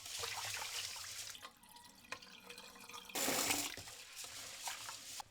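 Basmati rice being washed in water, a pound of grains rinsed to remove starch: close sloshing and dripping, with a louder burst of running water partway through, and no voice over it.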